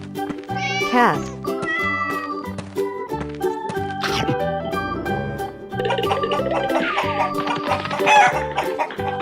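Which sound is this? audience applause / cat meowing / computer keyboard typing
cat meowing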